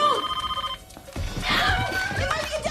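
A telephone rings with a rapid trilling bell for under a second and then stops, followed by a burst of clattering and voices.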